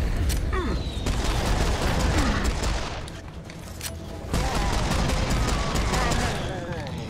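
Pistol fire in Serious Sam 4, sharp repeated shots cracking at irregular intervals over a loud, busy battle din of explosions and game effects, close and constant.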